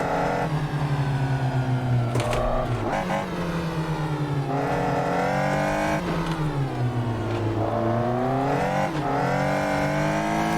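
A Caterham sports car in the racing game Assetto Corsa, its engine revving up and down through gears with a loud, close, buzzing tone and repeated rises and drops in pitch as it accelerates and brakes.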